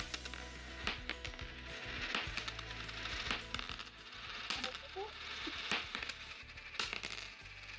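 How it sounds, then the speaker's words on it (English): Small metal coins clink and scatter as they drop onto a hard surface, with repeated sharp jingles and rattles spread over several seconds, faint and close against a quiet background. "So, it's coins na nahuhulog somewhere. Sa table, sa floor."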